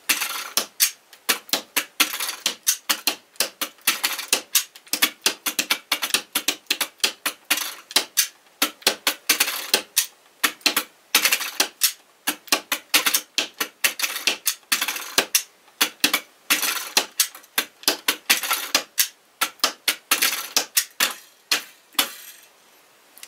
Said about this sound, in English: You can play with the wheels. The wheels sound pretty cool.